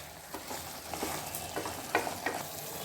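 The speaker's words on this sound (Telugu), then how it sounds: "చూడండి వేగుతుంది బాగా మసాలా అంతా బాగా వేగితే టేస్ట్ బాగా పెరుగుతుంది" Masala frying in a pan for a village-style chicken curry: a soft, continuous sizzle with repeated short crackles and stirring scrapes, fairly faint and with no talk.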